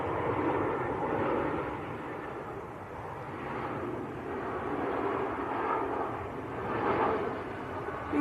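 An easyJet airliner arrives from Geneva at Manchester Airport, a steady mid-distance jet engine rumble that swells and eases in gentle waves.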